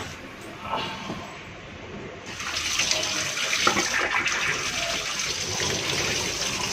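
Water gushes out of a newly tapped PPR pipe with no faucet fitted, a strong, steady rush after a quieter start, a continuous splashing flow that stays loud to the end.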